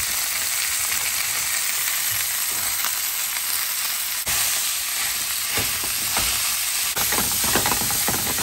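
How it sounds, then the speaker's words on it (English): Beef curry sizzles and fries loudly in a pan for one, a continuous hiss broken by scraping and clinking as it gets stirred. "And give that a stir."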